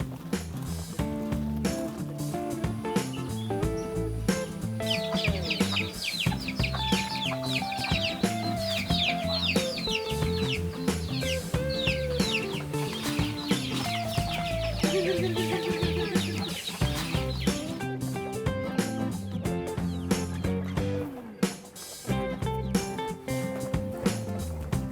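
Chickens cluck in a backyard coop beside a garden compost area, repeated soft clucks over a dense, continuous background of other sound, with no one speaking.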